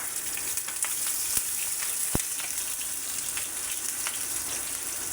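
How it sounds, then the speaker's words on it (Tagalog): Onions sautéing in a frying pan for a corned beef dish give off a steady, broad sizzle that fills the whole stretch, with a few sharp crackles popping out along the way. "tara, magisa na ta. Nahon na to ang sibuyas."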